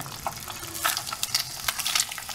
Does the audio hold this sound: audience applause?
no